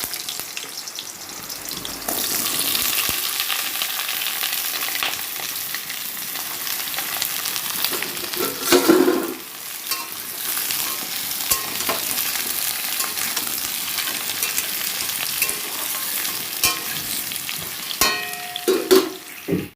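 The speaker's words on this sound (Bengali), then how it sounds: "এবার আলুগুলো ছাড়বো, লাল লাল করে ভেজে নেব।" Potatoes fry in hot oil in a pan that had just fried pointed gourd, a steady close sizzle running throughout with a few louder bursts and faint clinks of a utensil.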